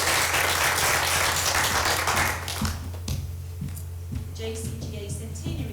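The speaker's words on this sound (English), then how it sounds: "Can we give Megan that clap?" Audience applause at a school prize-giving ceremony, dense clapping filling the first two seconds and then thinning out to scattered claps as a voice begins speaking.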